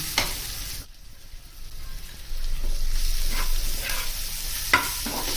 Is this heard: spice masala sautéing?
yes